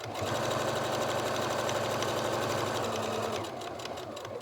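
A sewing machine stitches fabric for a reusable microwave popcorn bag, running in a steady, loud, close mechanical whir with rapid needle chatter that slows slightly near the end, with no talking.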